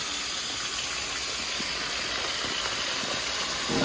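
A pressure cooker vents steam while Jamaican beef stew cooks, a loud continuous close-up hiss holding steady without a break, with no talking.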